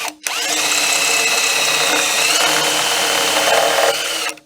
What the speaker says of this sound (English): when the drill comes through, it hits this block of wood and it doesn't scratch up your paint